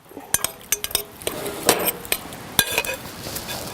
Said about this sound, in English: And now you're just gonna mix it all up.